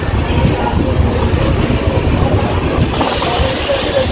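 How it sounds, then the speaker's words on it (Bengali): The Shantiniketan Express rolls out of Barddhaman railway junction with a loud, continuous rumble of wheels and carriages, close and steady, with a brighter rattling hiss near the end. "এই মুহূর্তে দেখতেই পারছেন আমরা বেরিয়ে যাচ্ছি এই বর্ধমান রেলওয়ে জংশন ছেড়ে"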